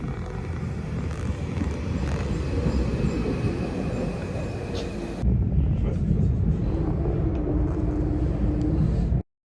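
Steady low rumble of a train in motion, loud and continuous, with a change in tone partway through before it cuts off abruptly.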